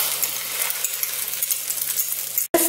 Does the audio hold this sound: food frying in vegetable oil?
yes